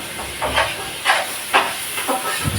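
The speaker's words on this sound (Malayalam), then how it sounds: "സവാള വഴന്നു വന്നതിന് ശേഷം അതിലേക്ക് തക്കാളി ഇടുക." Tomatoes dropped onto sautéed onions for a Kerala beef roast, hissing in short bursts of steam and sizzle over a few seconds, close and fairly loud with no speech.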